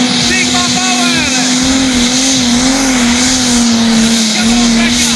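Turbocharged 3.5-tonne Pro Stock racing trucks at a Euro Cup race in Italy, a loud continuous engine whine and tire squeal wavering in pitch, with an excited voice shouting over it.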